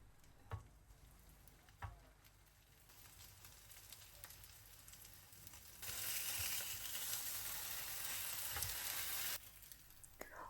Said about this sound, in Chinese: 这时我们可以先把午餐肉煎一下